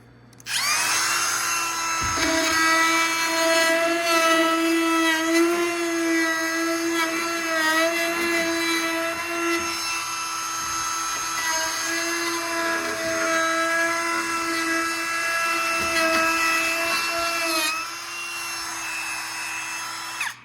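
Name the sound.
handheld router rounding over workbench front edge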